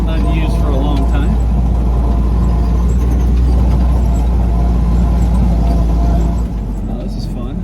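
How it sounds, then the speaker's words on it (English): A World War II Jeep engine drives off-road on a rough desert track near Tombstone. It makes a loud, steady low drone throughout, with faint voices underneath, and eases slightly near the end. "this is doing more than you should in a World War II Jeep probably"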